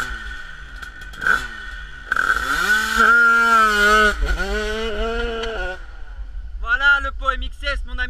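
A 100cc drag motorcycle with an MXS exhaust revs hard and close, its high buzzing whine climbing and holding through several sustained pulls, then a burst of sharp staccato blips near the end, with voices talking over it.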